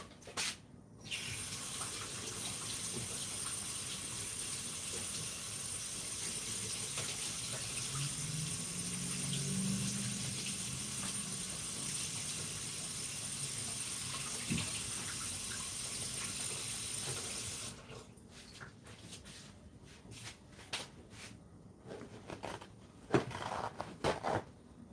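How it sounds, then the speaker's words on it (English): Running tap water pours steadily while hands are washed, a loud continuous gushing spray for most of the clip that stops abruptly, leaving a few soft clicks and knocks afterward. "I will have to wash these hands of mine."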